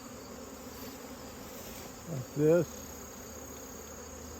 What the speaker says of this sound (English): take my bee brush, and we're just going to flick these bees off